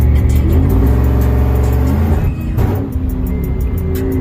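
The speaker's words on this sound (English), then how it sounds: "as soon as I floor it, it would cut" A truck with a forged 392 Hemi engine roars loud and steady under full throttle, then the engine note drops and breaks up as it cuts out, followed by rough, pulsing sputters.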